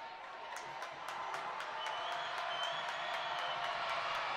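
A crowd in the stands swells with cheers and scattered claps during a tight Oklahoma 6A boys basketball area championship game between Broken Arrow and Owasso, growing steadily louder but heard from a distance.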